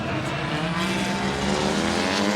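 Drift cars in a Formula Drift Japan tandem run, lead car of Kasahara over-rotating and straightening out, engines roaring loud and steady with tire noise throughout, no talk.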